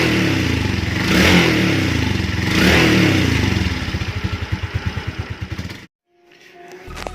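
A Raider J 115 Fi motorcycle on its stock exhaust revs loudly up and down nearby, settles into a pulsing idle, then cuts off abruptly near the end.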